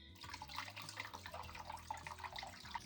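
A sparkling drink pours into a tower of stacked glasses at a New Year's Eve gathering, a faint, continuous trickling and splashing like a small waterfall, heard alone.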